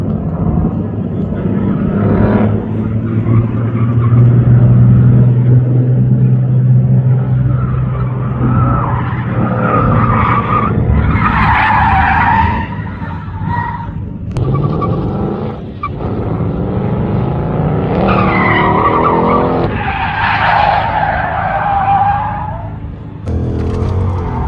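A drift car slides through the layout at Utah Motorsports Campus, its engine roaring loudly and steadily while tires squeal and screech in long wavering bursts, close and sustained.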